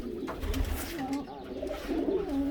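Transylvania flying pigeons, a Romanian breed without neck feathers, coo steadily inside a sport pigeon loft, several overlapping low rolling calls heard close and continuous over faint background murmur.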